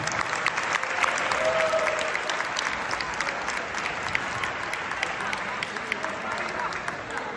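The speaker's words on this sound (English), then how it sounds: "How about one last applause for all of them," Applause for graduating seniors at a high school volleyball senior night in a gym, a sustained crowd of clapping with some cheering, moderately distant and steady, with faint voices mixed in.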